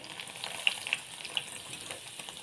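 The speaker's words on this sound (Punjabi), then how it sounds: "ਇਸ ਤਰ੍ਹਾਂ ਆਪਾਂ ਸਾਰੇ ਕਰ ਲੈਣੇ ਫਰਾਈ ਇਹਨਾਂ ਨੂੰ ਚੰਗੀ ਤਰ੍ਹਾਂ" Bread pieces frying in hot oil give off a steady, fairly quiet sizzle with a few sharper pops and crackles standing out. Nobody speaks over it.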